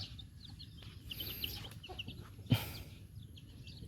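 Chickens cluck softly on a rice-field farm on a fresh morning, with short scattered calls and a sharp knock midway over light background noise.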